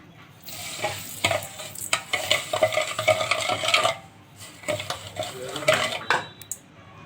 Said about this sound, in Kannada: ಇವಾಗ ಸಕ್ಕರೆ ಹಾಕೋಣ